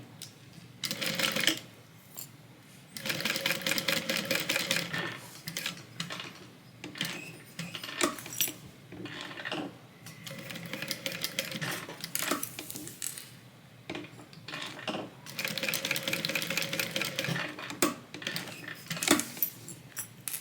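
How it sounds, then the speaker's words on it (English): A sewing machine stitches around the edge of a tote bag rectangle with a narrow 1/8 inch seam, running in several short bursts separated by pauses. The rattle is quiet and close, with no voices. "we are going to sew around the edge of the rectangle with a 1/8 inch seam allowance"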